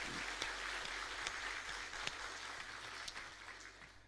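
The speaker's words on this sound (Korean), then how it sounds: "크게 박수로 격려해 주세요." A church congregation at a Sunday worship service claps in encouragement, a soft, fairly distant patter of many hands with a few sharper individual claps standing out.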